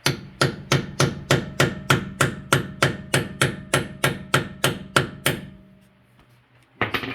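A hammer taps a 21 mm lug removal tool onto a locking wheel lug nut, about seventeen sharp, evenly spaced metallic strikes close up, then a pause and one final knock.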